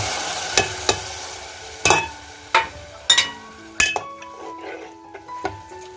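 Mixed prawn masala tipped into a sizzling spice tempering in a cooking pot, with sharp metal utensil clinks and scrapes as it is stirred over a low, steady frying hiss.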